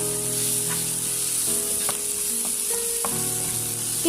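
Chicken momo filling stir-fried in a pan with green peas and carrot, giving a constant close sizzle broken by a few sharp spatula scrapes and clinks, with no talking.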